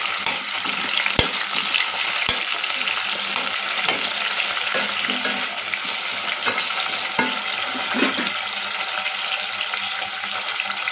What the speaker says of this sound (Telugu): వీటిని ఒకసారి మంచిగా కలుపుకుందామండి